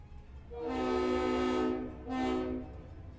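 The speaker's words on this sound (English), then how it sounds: "I think it's because of the train noise." Train horn in a video game, sounding two long, loud, steady blasts, the first about a second and a half and the second shorter, over a low rumbling background.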